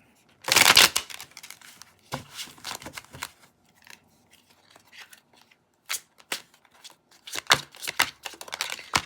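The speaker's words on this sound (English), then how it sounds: "One really good shuffle." Tarot cards are shuffled with a loud riffle burst near the start, then a string of softer, irregular card flicks and slides, close up with no talking.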